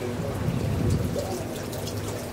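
Water pours and splashes steadily over hands being washed before a meal, a continuous close trickle with soft voices murmuring underneath.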